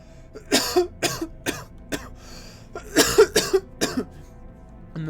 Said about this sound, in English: the mayor collapses in a fit of coughing